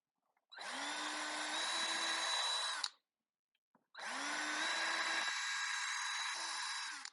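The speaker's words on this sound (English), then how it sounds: "the drill started out a little straighter and then it turned this way to follow the angle of the hole" An electric drill bores a hole into a wooden chair frame in two sustained bursts, each with a rising whine that spins up, holds steady and cuts off, with a short quiet gap between.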